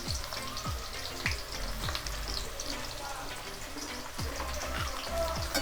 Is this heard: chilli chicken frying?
yes